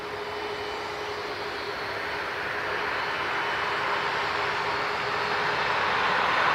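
Jet airliner taxiing at Dublin Airport, a steady broad engine roar with a thin whine, gradually growing louder as the aircraft draws nearer, no voices over it.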